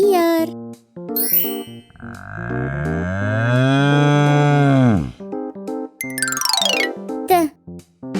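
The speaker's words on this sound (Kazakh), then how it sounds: "Сиыр." A cow gives one long, drawn-out moo that rises and then falls, framed by bright chimes and jingly tones in a Kazakh children's animal alphabet.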